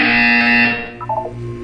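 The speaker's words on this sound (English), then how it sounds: "You will hear a buzzer. When you hear the buzzer, look up at the ceiling." A loud, steady electronic buzzer from Portal 2 drones for under a second, then fades into a softer tonal blip.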